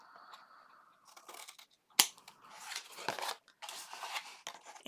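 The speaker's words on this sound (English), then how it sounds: "put your scissors against the edge of your chipboard, move them in just a tiny bit, and then cut" Scissors cutting through chipboard for a mini album cover, a sharp snap followed by rough crunching and scraping cuts, close and moderately loud in short bursts.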